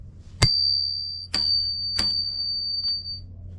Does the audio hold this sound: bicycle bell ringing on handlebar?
yes